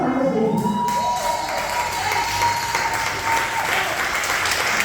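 A church congregation applauds and cheers for Jesus, sustained loud clapping and shouts from a large crowd filling the room, with a voice briefly heard at the start.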